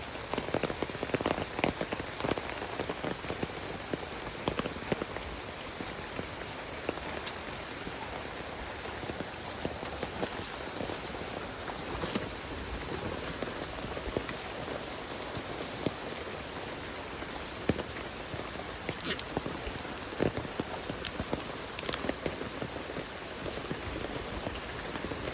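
Monsoon rain pours steadily on a rural road, a dense continuous patter of drops with scattered louder splashes close by and no voices.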